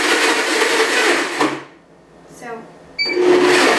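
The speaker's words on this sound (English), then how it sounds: "Using my Blendtec blender, which is a very powerful blender, I just need to push pulse a couple times to coarsely chop my tomatoes." A powerful Blendtec blender pulses in two short loud bursts coarsely chopping fresh tomatoes for pasta sauce, separated by a quiet gap with a brief mechanical click, and a voice speaks briefly.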